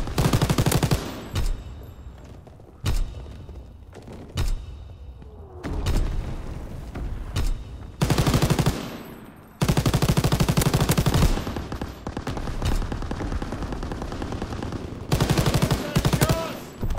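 Call of Duty WW2 multiplayer gunfire, with loud bursts of automatic weapon fire and single shots in irregular clusters, separated by quieter stretches of game ambience.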